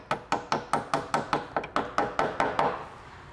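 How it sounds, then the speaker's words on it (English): About a dozen sharp, evenly spaced hammer taps on a brake line clip on a VW Golf, each ringing briefly before the next, with one quick double hit near the end. "And just kind of hammer it home a little bit."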